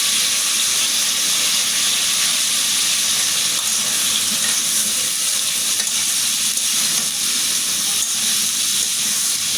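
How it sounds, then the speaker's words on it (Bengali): Turmeric, chili, cumin powder and salt fry with eggs, rice and pumpkin in a pan, a loud steady sizzle and hiss with faint stirring, close and continuous throughout. "আমি এটা ভালো করে কষিয়ে নেব"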